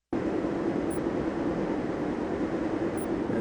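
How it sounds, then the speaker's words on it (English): A train rolls past at the Elkhart, Indiana station, giving a steady, loud broadband rumble with a constant rolling roar that lasts throughout, heard up close with no voices. "And this is a train going by."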